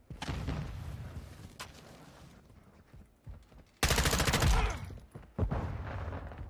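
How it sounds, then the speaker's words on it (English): A stun grenade going off in Modern Warfare 2, a sudden loud burst of harsh, dense noise that holds for over a second and then decays, following quieter gunfire and game sounds. "Throwing a stun grenade."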